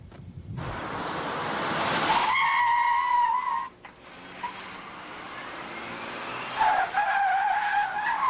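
A car braking hard on a driving-training course, tires skidding in a long loud screech that cuts out, then a second squeal starts near the end; no talk.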